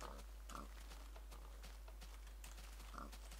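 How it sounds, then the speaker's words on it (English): A pig in the video game Minecraft gives several short oinks and grunts, quiet and intermittent over low background noise. "Come on, little pig."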